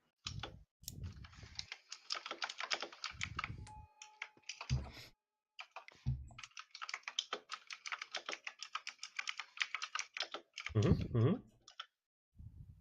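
Rapid bursts of computer keyboard typing and mouse clicking while playing Magic Online, a Commander league game, close and busy with brief pauses, with people talking at times.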